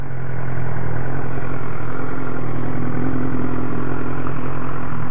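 A BMW S1000R motorcycle engine idles with a steady, rumbling clatter, heard at moderate distance for the whole stretch with no talking.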